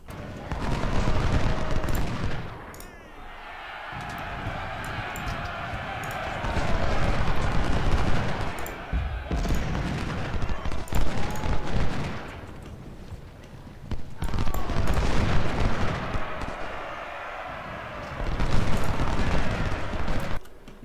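Cannon blasts and volleys of musket fire rumble in waves during a Civil War battle in the strategy game Ultimate General: Civil War, with dense crackling fusillades swelling and fading repeatedly over the battlefield din.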